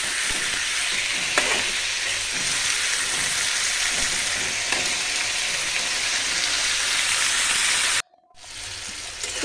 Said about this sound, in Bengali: সিমটা ভালো করে ভাজা হলে তারপর আমি মশলাটা দিয়ে হলুদ মরিচটা কষাই নেব